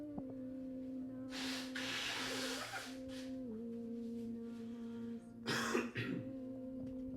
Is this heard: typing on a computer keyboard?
no